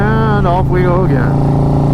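A Harley-Davidson motorcycle pulls away on a road trip from Tennessee to Florida, its loud, close engine rumbling steadily while a voice speaks over it.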